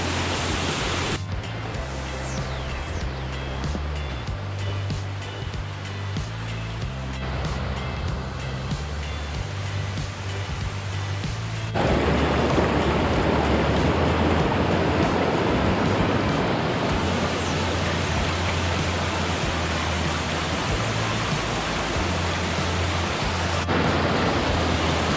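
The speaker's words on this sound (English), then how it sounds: "The water's really moving." Fast-moving water on Jacks River in the Cohutta Wilderness, Georgia, rushes in a steady broadband roar that grows louder and fuller partway through, with a low rumble beneath and no voices.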